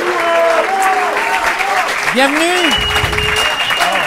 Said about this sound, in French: Je vous demande d'applaudir mademoiselle Karine Marquis.